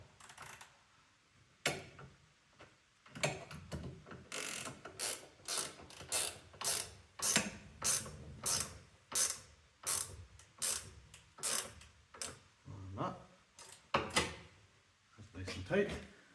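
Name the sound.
14mm ratchet spanner tightening Oregon 520/230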